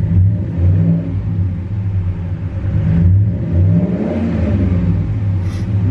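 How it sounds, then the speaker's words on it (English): A 2012 Ram 1500 Laramie pickup engine is revved, swelling from a steady idle into loud, deep rises and falling back in several surges, with no talking. "Let's go ahead and give it a little gas here."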